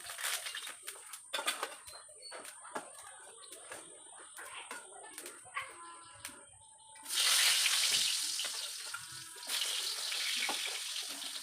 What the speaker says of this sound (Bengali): তেলটা কিন্তু এখানে গরম হয়ে গেছে আর পটলগুলো আমি এখানে একে একে দিয়ে দিচ্ছি